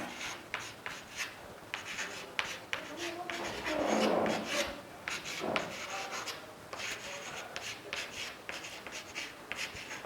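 A teacher writing during a science lesson, producing a series of rubbing, scratchy strokes in short bursts, close and fairly quiet, with a brief louder rubbing passage midway.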